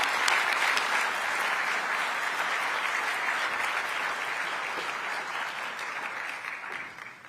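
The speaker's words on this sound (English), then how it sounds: "Let's have one more round of applause" An audience at a Raleigh affordable housing summit gives a speaker another round of applause, a full, even wash of clapping that holds steady and fades slightly at the end.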